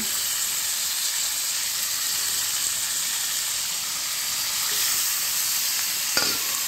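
Chicken pieces sizzle steadily in hot oil and spice paste in a pan for home-style chicken curry. The hiss stays bright and constant, with a few scraping stirs near the end.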